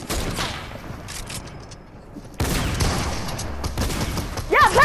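Gunfire in a Fortnite-style zone wars video game match: rapid bursts of shots in two stretches, with faint game effects between them and a rising electronic tone at the end.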